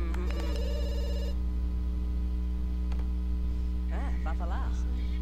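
A telephone rings in the video game The Sims 2, a short electronic trill near the start over a constant low mains hum. Quiet ambience follows, and a person talks briefly near the end.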